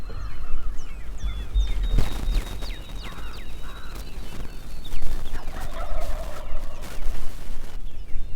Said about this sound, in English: Those are turkeys.